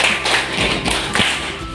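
Students in a classroom clap their hands in brief, uneven bursts of sharp taps and slaps, close and fairly loud, with no talking over them.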